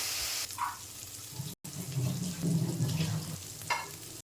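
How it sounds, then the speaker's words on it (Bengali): Onion, garlic and ginger fry in a pan for a prawn malai curry, giving a soft, steady sizzle with faint clinks and stirring, broken briefly by a short gap. "পেঁয়াজ, রসুন, আদা ভাজা হয়ে গেছে।"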